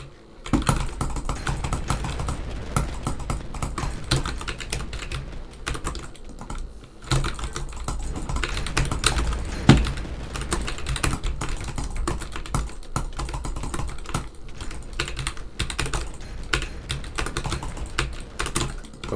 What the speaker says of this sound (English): that's me moving my keyboard